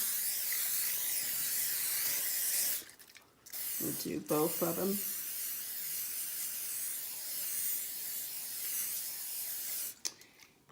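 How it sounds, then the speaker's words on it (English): A cooking oil spray can hisses in two long, steady bursts up close onto baking pans, separated by a brief pause and a short spoken remark. "I'm going to spray the pans with some olive oil"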